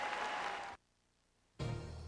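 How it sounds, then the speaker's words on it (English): Arena crowd at the 2001 European Figure Skating Championships in Bratislava giving a standing ovation, a fairly faint wash of applause that drops out abruptly midway and returns at the end. "Look at this a standing ovation."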